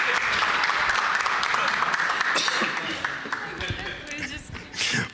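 Audience applause at the opening of a Climathon event in Boa Vista, Roraima, steady and dense for several seconds, then thinning and fading with a brief swell near the end, with crowd voices mixed in.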